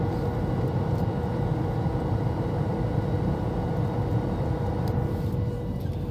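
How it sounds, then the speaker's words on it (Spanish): Jet airliner engines drone steadily from inside the cabin on arrival in Miami, a continuous loud broadband roar with a faint steady tone running through it. "O los propulsores, que es como se llaman los motores de los aviones."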